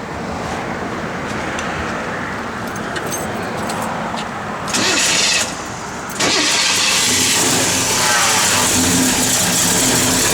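A 1971 Chevrolet Chevelle SS fitted with a comp cam cranks over and catches, then settles into a loud, steady, choppy idle that fills the space, with a short burst of louder revving partway through.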